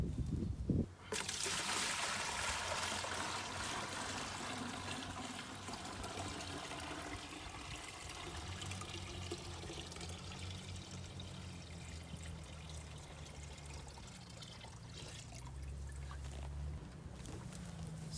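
Water poured steadily into a homemade automatic chicken waterer, a continuous gushing splash lasting many seconds at close range, with changing tone as the container fills.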